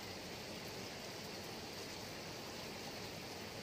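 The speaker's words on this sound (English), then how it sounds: "And this is the water dripping." Water trickles and splashes steadily along a mountain trail near a river crossing, a constant soft hiss of running water with no voices.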